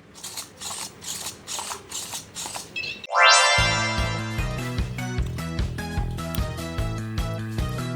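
The servo motors of an Otto DIY humanoid robot whir and buzz as it dances, giving a close, rhythmic sequence of short mechanical grinding pulses after a few softer clicking movements.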